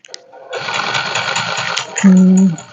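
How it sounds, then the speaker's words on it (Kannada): A Ralson embroidery machine runs with only its belt spinning, a steady mechanical whir and rapid ticking rhythm that starts after a brief pause, ending in a loud sustained hum. "ಮಿಷಿನ್ ಆನ್ ಆಗಿದೆ ಹಾಂ ರನ್ ಆಗ್ತಾ ಇದೆ ಬೆಲ್ಟ್ ಮಾತ್ರ ಸುತ್ತಾ ಇದೆ"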